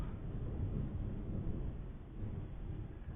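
A low, continuous rumble of distant thunder rolls on steadily for the whole stretch, deep and muffled with no voices.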